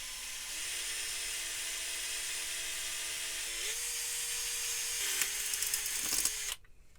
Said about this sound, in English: I think I'm going to drill some holes and try some tack switches